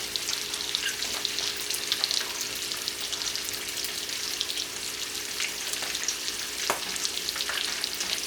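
Food fries in hot grease for a Sunday dinner, a continuous soft crackle and sizzle with scattered pops, fairly quiet and with no voices.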